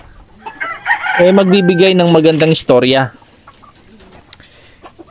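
A champion gamecock crows once loudly and close by, a long harmonic cock-a-doodle-doo with a sharp rising final note, while someone talks just before and after.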